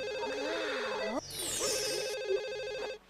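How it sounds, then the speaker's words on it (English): A telephone rings in The Sims Bustin' Out, a repeated electronic warbling ring heard clearly over game music, with a brief whooshing sweep partway through before the ringing cuts off near the end. "Oh, phone."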